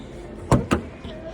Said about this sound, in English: Oh, the doors are freaking loud,